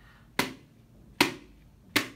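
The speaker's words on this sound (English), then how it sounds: "We're gonna need our hand clappers now" Three sharp hand-clapper strikes beat out a slow steady rhythm for sensory football, each crack standing alone with short gaps and no voices.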